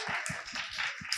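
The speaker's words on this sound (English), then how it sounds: "I would like everyone to give a big round of applause to our guest tonight." A small audience at a traveler meetup in an Istanbul co-living house claps for the evening's guest: brisk, close clapping from a handful of people, brief and fairly loud, with no talk over it.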